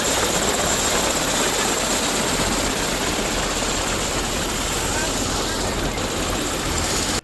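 An air force helicopter delivering supplies over a flooded area gives a loud, steady rotor and engine roar throughout, with voices faintly underneath.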